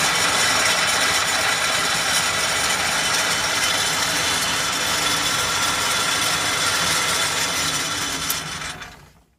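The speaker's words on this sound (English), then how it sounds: "I got it in my 3-jaw chuck. And just by seeing it spin, it looks pretty darn straight." An engine part from a 1988 Snapper spins in a lathe's 3-jaw chuck, giving a steady, dense mechanical whir and rattle close by for about eight seconds before it fades out at the end.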